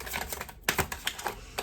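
Playing cards riffled and snapped together in an aggressive shuffle, a fast run of sharp, close papery clicks and slaps, with no talk.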